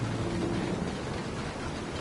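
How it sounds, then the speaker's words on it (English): Steady rain and rumbling thunder from a thunderstorm in the video game Uncharted 3: Drake's Deception, a dense continuous wash of rainfall with low rolling thunder throughout, no voices. "That was the storm."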